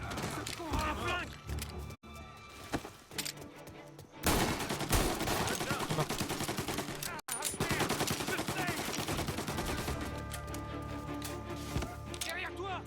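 Rapid gunfire and automatic bursts from a mafia video game crackle densely across the whole stretch, with brief gaps, while players talk over the shooting.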